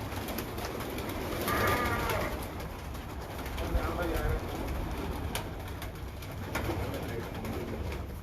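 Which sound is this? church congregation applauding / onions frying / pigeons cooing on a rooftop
pigeons cooing on a rooftop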